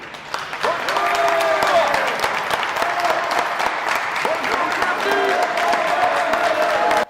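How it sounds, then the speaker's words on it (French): A crowd applauds and cheers as clients arrive at an open-air casino in La Ciotat, loud continuous clapping from many people with voices mixed in and a few brief whistle-like tones above. "Applaudissements et aide d'honneur,"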